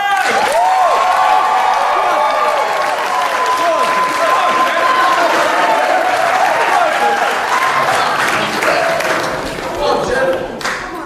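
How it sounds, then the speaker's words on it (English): Wedding guests break into a big round of applause for the father of the bride, dense steady clapping with cheers and voices woven through, holding strong for about ten seconds before easing slightly at the end. "can I have a huge round of applause for the father of the bride?"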